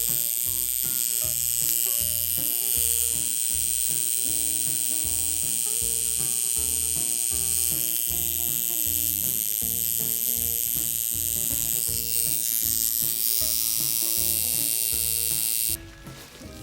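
A vintage coil tattoo machine with silver contact points buzzes loudly and steadily for the whole stretch. The electric drone is harsh and close, with no talking.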